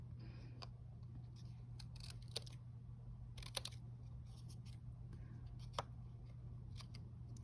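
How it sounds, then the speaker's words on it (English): Scissors snipping paper to cut out a mask, a run of light, crisp cuts close by over a low steady background hum. "you just keep cutting until you get rid of all the corners"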